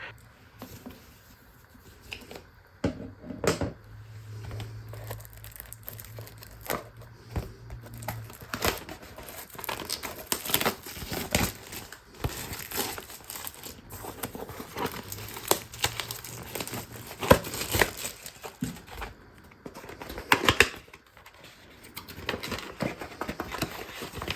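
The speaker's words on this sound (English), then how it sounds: "make a cut at the top of the box and remove the shrink wrap" Plastic shrink wrap crinkling and tearing as it is cut and peeled off a 1993 PC/DOS game box, a steady run of close crackles and rustles with a few sharper snips and handling knocks.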